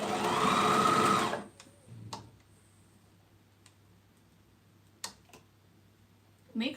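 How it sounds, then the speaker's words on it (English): A sewing machine stitches a seam up to a strip of elastic in one loud, close burst, followed by faint clicks and handling noises in near silence. "And keep sewing up to the elastic."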